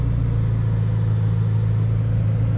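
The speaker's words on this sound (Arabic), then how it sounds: "السيارة 612 حصان، 8 سلندر توين تيربو." Steady low engine drone from a Ferrari Roma 2021 with a 612-horsepower twin-turbo V8, cruising at night through City Walk in Dubai, heard from inside the cabin as a constant rumble with no talk.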